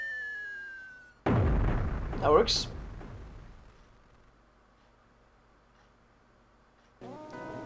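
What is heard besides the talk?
fireworks exploding in the video game Mother 3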